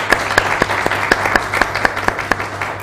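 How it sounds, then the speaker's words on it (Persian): An audience claps in tribute to the late actor Khosrow Shakibaei, a full, steady round of applause with a few sharper hand claps standing out at an even, rhythmic pace, with no talking. "یه تشویق بکنید خسرو عزیز"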